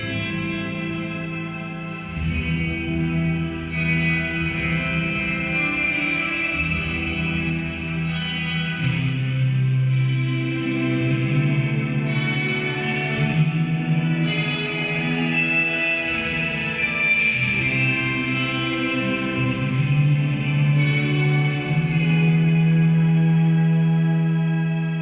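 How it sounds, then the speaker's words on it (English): Guitar runs through a shimmer reverb pedal with a whammy pitch effect, producing sustained, washy chords with bending, rising pitch layers and long echoing tails, played alone with no talking. "let's check out the shimmer, which is the shimmer effect without the flanger, the chorus, like the Supernova or Shine, but with this whammy pitch thing that goes on and on"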